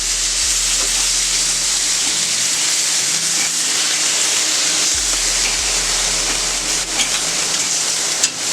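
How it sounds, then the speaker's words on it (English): Steak sizzles on a hibachi griddle with a loud, continuous broadband hiss and crackle, a few faint scraping taps of cutting underneath and no talking. "I'm going to start cutting the steak here."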